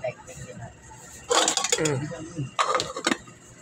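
Metal lid set onto a pot of simmering munggo (mung bean stew with chicharon) in a home kitchen, giving two bursts of clattering, clinking metal with a short gap between them, heard close up.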